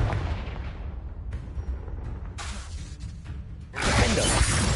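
A Confringo blasting spell explodes in a Harry Potter video game, a sharp shattering blast followed by a rushing burst of debris and noise, loud and close.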